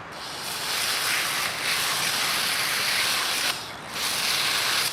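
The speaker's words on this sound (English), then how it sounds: "I'm going to use, this has an angle mode" Water from a garden hose nozzle on its angle setting sprays onto a bicycle's chain rings, giving a loud continuous broadband hiss that briefly drops out twice as the spray shifts.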